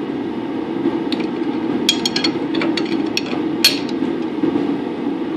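A wrench tightens the bolt on an ETM 1130 blade, giving a few light metallic clinks and ratcheting taps over a steady, loud machine hum.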